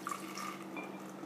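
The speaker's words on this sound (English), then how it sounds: "And you wanna pour it into the jar." Kombucha with SCOBYs poured into a jar makes a soft, steady liquid trickle, faint and brief.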